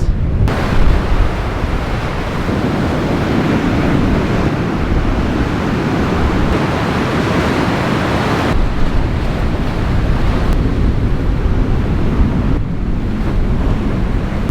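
Strong wind buffeting the microphone on the beach of Fraser Island, with surf rolling in behind it, loud and continuous throughout with gusts rising and easing, no voices.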